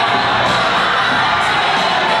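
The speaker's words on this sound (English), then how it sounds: "West Allegheny crowd up across the way." Loud, dense cheering and shouting from West Allegheny fans at a high school basketball game, a continuous roar filling the gym without pause.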